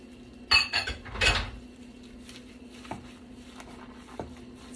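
Beef hot link and cilantro are tossed in a pan, giving a few metallic clanks and scrapes of utensil on cookware, then soft occasional taps over a faint steady hum.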